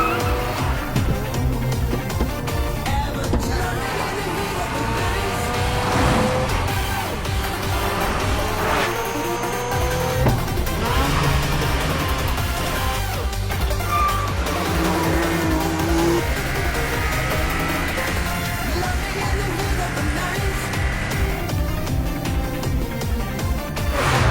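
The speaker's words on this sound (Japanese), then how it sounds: "コーナーの出口ではアクセルをワイドに開けてダッシュ。" Racing car in the Initial D arcade video game, an engine revving hard through the gears with screeching tire squeals and skids as it powers out of corners, loud and continuous over game music.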